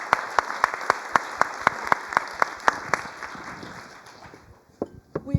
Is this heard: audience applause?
yes